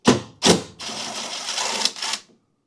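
A wrench works the starter solenoid bolts on a Toro zero-turn mower, two short metallic ratchet bursts followed by a longer rattling run of clicks, close and alone, then silence.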